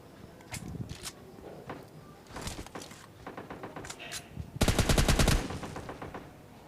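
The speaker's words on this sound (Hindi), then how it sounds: "तभी मुझे दूसरी साइड से फायर की आवाज़ आती है।" Gunfire in the mobile battle royale game PUBG Lite: scattered distant single shots, then a loud rapid automatic burst near the end, over faint background noise.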